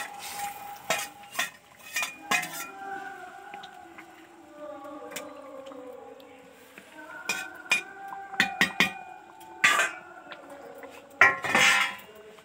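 Hilsa fish going into a pan for village-style mustard hilsa, with scattered clinks of utensils against the pan, stirring and light sizzling of frying over a low hum, moderately close with no talk.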